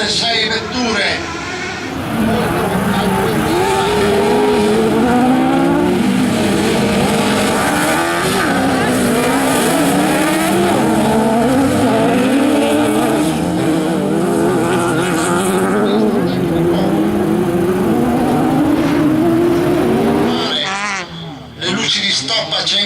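Six autocross race cars launching together at Conselve, engines revving hard and rising in pitch as they accelerate away, loud and sustained under an Italian commentator's voice before fading abruptly.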